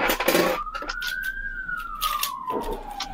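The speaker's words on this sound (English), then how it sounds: "Okay, I hear some sirens." A siren wails in one long rising and falling sweep, moderately distant, over a noisy background with scattered clicks and clatter.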